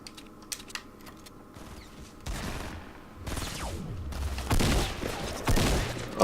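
Assault rifle gunfire in a video game, with sharp shots and short bursts spread through the stretch and growing louder and denser toward the end, heard alone without talk.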